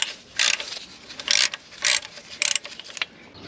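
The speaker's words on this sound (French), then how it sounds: "On dégaine la douille de 16 et on s'enlève ça." A ratchet with a 16 mm socket loosening gearbox casing screws, four short bursts of rapid clicking close up with brief pauses between them, and no talking.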